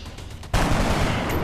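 Gunfire in XCOM: Enemy Within hits abruptly after a quiet half second, a loud, close blast that holds as sustained rattling noise to the end.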